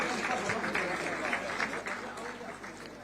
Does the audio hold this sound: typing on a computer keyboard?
no